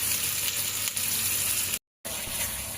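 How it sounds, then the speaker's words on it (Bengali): Chopped tomatoes fry in a pan for chana masala with a loud, steady sizzle close by. A brief gap of silence cuts into the sizzle before it resumes, and there is no talk. "এবার আমি কাটা টমেটোগুলো দিয়ে দেব"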